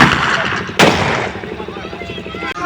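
Firecrackers set off during a Gurpurab celebration, a sharp loud bang followed by a decaying crackle, then a second fainter pop, over a noisy outdoor crowd.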